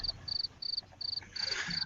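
Periodical 17-year cicadas calling in spring: a high, buzzing insect chorus in about six pulsing bursts with short gaps, steady and moderately near over a low background rumble, growing denser and louder toward the end.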